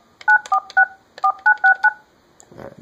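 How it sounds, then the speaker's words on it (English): Polycom 335 desk phone keypad dialing, seven crisp two-tone beeps in quick, uneven succession, followed by a faint rustle from the handset. "picking up the handset and dial the digits we want"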